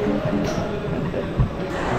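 A Mumbai Metro Line 3 Aqua Line underground train runs with a dense, steady low rumble and hiss heard from inside the carriage, with one brief thump near the end.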